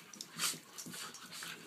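A dog whimpers and yips in short, high whines, close by, with soft rustling and splashing around it.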